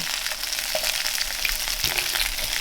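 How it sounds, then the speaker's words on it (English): Onions frying in a pan alongside sausages in olive oil, a loud, steady close-up sizzle with a brief stirring clatter partway through, no voices. "But I'll chuck in the onions into here. We'll start those slowly cooking"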